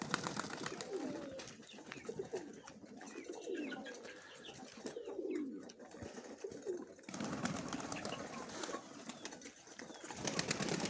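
Mykolaiv breed pigeons, including a grey hen, coo softly and repeatedly at close range, with bursts of wing flapping and rustling against a busy loft background.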